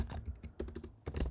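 Rapid clicking of keys on a computer keyboard, a quick burst of typing with a brief pause midway.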